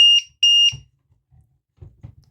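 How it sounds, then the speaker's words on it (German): An electronic device gives two loud, high-pitched beeps in quick succession, followed by faint low knocks and handling noises. "Vorsicht, das piepst kurz"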